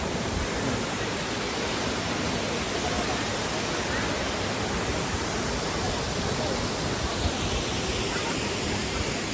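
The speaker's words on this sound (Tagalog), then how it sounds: "nandito po tayo sa Mantalupan Waterfalls" Mantalupan Waterfalls, the tallest waterfall in Cebu, Philippines: a dense, steady roar of falling water that fills the scene at constant loudness for the whole stretch, with no pauses.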